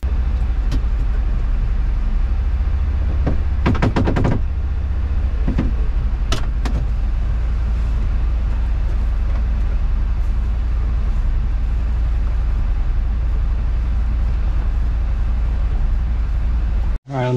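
A Polaris Ranger Northstar UTV being driven, fitted with a new front upper bumper and tire spacers. Its steady, loud engine drone and low rumble continue throughout, with a few rattles and clunks early on.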